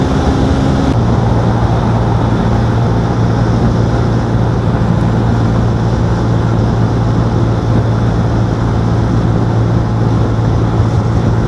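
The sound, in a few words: 125cc motorcycle at full throttle climbing a hill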